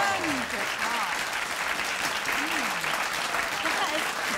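Steady applause from a crowd fills the whole stretch, with a few voices calling out faintly underneath.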